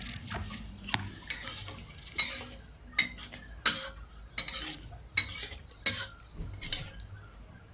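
A potato and bottle gourd curry is stirred in a pan, with a steady series of about ten sharp spoon scrapes and clinks against the metal over a faint sizzle, close and fairly loud.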